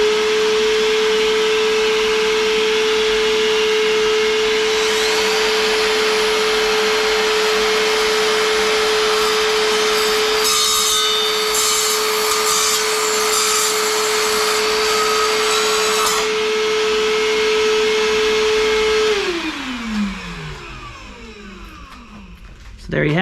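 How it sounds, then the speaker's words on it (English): A shop vac runs with a loud, steady whine at close range, then winds down near the end with a falling pitch as it shuts off. "Turn on our shop vac."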